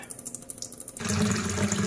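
Spring water rushes out of a filter system being flushed, a soft trickle that swells into a louder steady gush after about a second.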